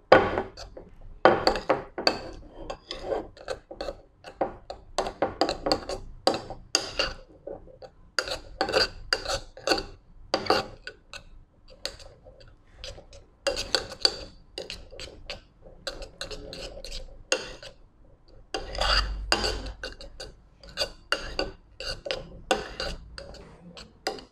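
A ghee sample being stirred with a few added drops of liquid during a home purity test, heard as a steady run of light clicking and scraping taps against a small container, close and fairly quiet, with no talking.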